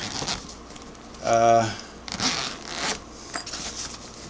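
A short zipper pull on the case of a Singer Model 337 sewing machine, a quick rasping zip lasting under a second, between quiet handling noises.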